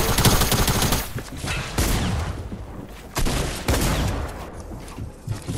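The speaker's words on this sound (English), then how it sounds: "Bro, they're shooting up on us." Heavy gunfire in a shooter video game, loud bursts of rapid shots and shotgun blasts arriving in several dense volleys separated by brief lulls, close and intense.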